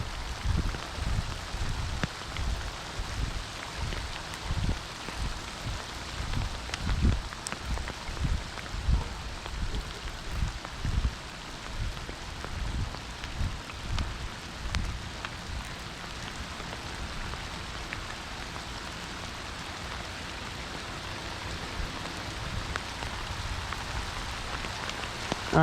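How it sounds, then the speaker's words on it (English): Heavy rain falls steadily on water and surrounding surfaces during a bass fishing outing, a dense continuous patter with scattered close drops, with no talk. "This rain is getting heavy."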